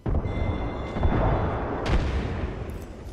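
A frag grenade detonates in the Apex Legends video game, a loud boom with a rumbling low tail amid ongoing gunfire and game effects, with a second sharp burst about two seconds in.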